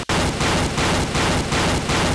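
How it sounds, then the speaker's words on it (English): Rapid, loud bursts of gunfire and explosions from a Garry's Mod video game, pulsing in a regular rhythm of roughly three repeating blasts per second after a brief gap at the start, dense and continuous with no talking. "From all the explosions."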